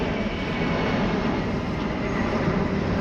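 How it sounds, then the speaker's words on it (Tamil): A large British Airways airliner flies low over a street near Heathrow, a broad, loud, steady engine roar filling the whole moment without voices. "மேசிவாக ஒரு ஏரோப்ளேன் ஒன்று வருது பாருங்கள், செம பெருசு"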